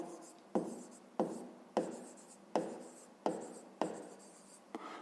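Numbers written by hand for a fifth-grade math exercise: seven evenly spaced scratching strokes, each a crisp attack fading quickly, close and quiet in an otherwise silent room.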